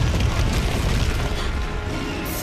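Spell explosions from Confringo and Expulso in Hogwarts Legacy, a dense continuous rumbling boom with heavy low-end bursts across the whole stretch, loud and close, with no talk.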